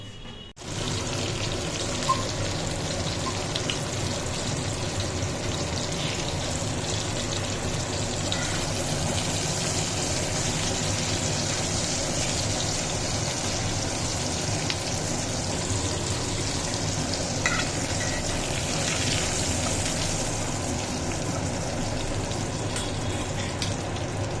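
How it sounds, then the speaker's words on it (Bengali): Three hilsa fish heads fry in oil in a pan, giving a steady, even sizzle and crackle that runs close and moderately loud for the whole stretch with no talking. "আগে মাথা তিনটে ভেজে নিই"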